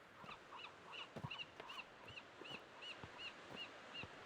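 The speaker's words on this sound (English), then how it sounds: "The seagulls, they're waiting to attack me. I can hear them up in the sky." Seagulls in the video game Maquette give a regular series of faint, high calls overhead, spaced about every half second against a quiet ambient backdrop.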